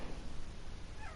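A cat meows once in the video game .hack//G.U., a short rising cry near the end, fairly faint over a low background hum.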